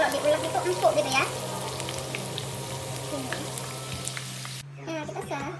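Potatoes frying in hot oil for Indonesian perkedel, a steady close sizzle with crackles that continues nearly throughout, then cuts off abruptly near the end, with a voice speaking briefly at the start and again at the close.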